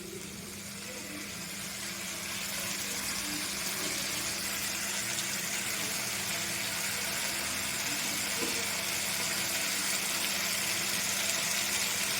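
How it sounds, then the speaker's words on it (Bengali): Water pouring into a pan of Bengali cauliflower, potato and fish curry, a steady broadband rush that swells after the first couple of seconds and holds at a constant level, with a low hum underneath. "জল দিয়ে দিচ্ছি।"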